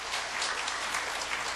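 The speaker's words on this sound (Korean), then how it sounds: "큰 박수 보내주시기 바랍니다" Steady, dense applause from a church congregation at a mothers' prayer meeting welcomes a pastor to the pulpit. The clapping is close, even and unbroken, with no voices over it.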